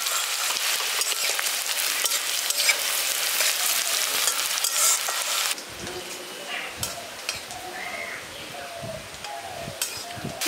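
Chopped onion hits hot oil in a village kitchen pan and sizzles loudly and steadily, then the frying settles into a softer crackle with some stirring.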